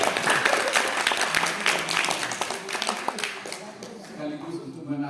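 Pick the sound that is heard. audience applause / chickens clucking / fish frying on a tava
audience applause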